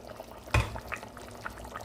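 Cooking liquid boiling in a pot for chicken liver biryani, a close bubbling simmer with one sharp clatter of utensil against the pot, no talking.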